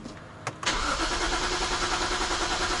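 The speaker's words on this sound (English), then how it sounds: "My car won't start." A BMW 135i with the N54 engine and a six-speed cranks over but fails to start: a sharp click, then a loud, steady, close-up cranking drone that runs without catching, with no voices.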